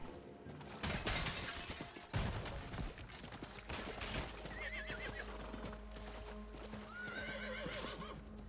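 A horse whinnies twice over steady hoofbeats and clattering video game sounds, with a low hum running underneath; no one speaks.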